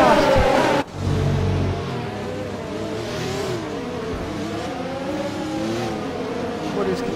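An F1 2020 race car from the video game sweeps past at the Belgian circuit, its high engine whine sliding in pitch through the gears after an abrupt cut, loud and continuous under a commentator's voice.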